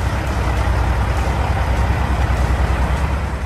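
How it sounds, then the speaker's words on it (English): Two trucks run with engines idling at a rest stop, a steady, loud low diesel rumble close by on both sides that stays continuous throughout with no speech. "I know it's a little bit noisy being in between two trucks that are running"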